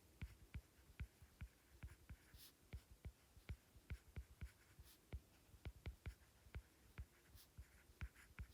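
Pen or marker writing out algebra notes, close and quiet: a steady series of short sharp taps and strokes runs throughout with no talk over it.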